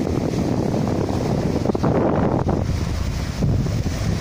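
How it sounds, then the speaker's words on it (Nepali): Gentle sea waves and wind at the shore in the evening, a continuous loud rush of wind buffeting the microphone over soft, steady surf, with no voices. "पाँच बजेको समयमा यहाँ सामुद्रिक छालहरू हल्का हल्का"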